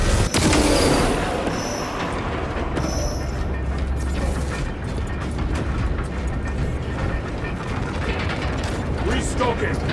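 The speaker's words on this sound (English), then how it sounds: "The elevator's almost here." Heavy elevator machinery grinds and clanks into place in the video game Space Marine 2, a dense mechanical rumble with ratcheting and gear noise throughout, with brief electronic tones early on.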